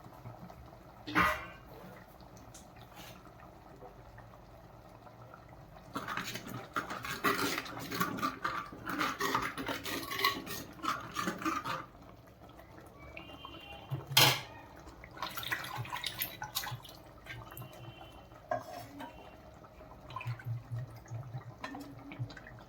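Water poured over marinated mackerel in a vessel to wash it, with splashing and dripping in bursts plus clinks of dishes, heard close and fairly faint, with no talk.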